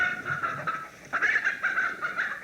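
Chickens on a farm cluck and squawk in a run of close, uneven calls, with a louder burst partway through.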